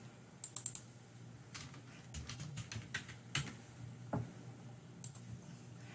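Light clicking of computer keyboard keys in quick irregular bursts with short pauses between, quiet and close, no voices.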